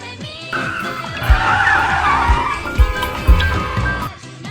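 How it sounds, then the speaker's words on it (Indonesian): A car brakes suddenly and its tires skid in a drawn-out, loud squeal, with several heavy low thumps underneath. "Yina yang kaget langsung rem mendadak."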